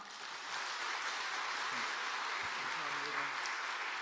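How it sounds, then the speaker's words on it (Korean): A church congregation at a revival service claps to welcome a guest pastor, a soft, even, sustained patter of many hands heard at a distance, with faint murmuring voices underneath. "강사 목사님 나오실 때 큰 박수로 환영하겠습니다"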